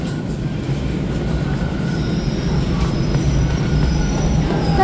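A Toronto TTC subway train pulls into the station with a loud continuous low rumble, wheels squealing faintly in thin high tones near the end, close by and without voices.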